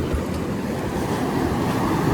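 Steady ocean surf at Cherala Beach in the early morning, a continuous broad wash of breaking waves with some wind rumble on the microphone, no voices.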